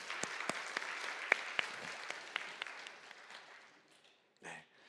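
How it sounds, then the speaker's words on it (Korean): A church congregation claps in response to the pastor during a Korean sermon, with sharp scattered claps over a dense patter of applause that gradually thins and fades, followed by a brief murmur at the end. "우리 한번 박수할까요?"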